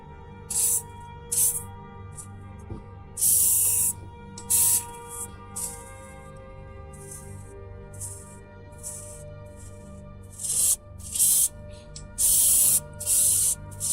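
Airbrush spraying paint onto a Pragmata figure in short bursts of sharp hissing, a dozen or so on-and-off sprays of varying length, close and clear over a steady low compressor hum.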